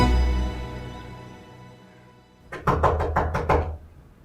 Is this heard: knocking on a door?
yes